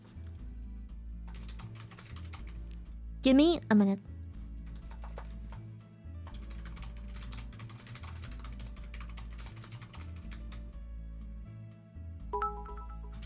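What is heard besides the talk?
typing on a computer keyboard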